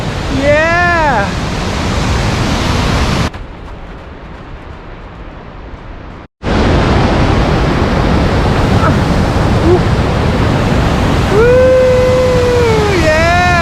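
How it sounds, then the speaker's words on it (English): An early-season Yosemite waterfall at full flow roars as a loud, dense rush of water close by, dipping briefly before surging back, while hikers whoop and cheer over it. "There's nothing quite like the sound of a waterfall in the early season."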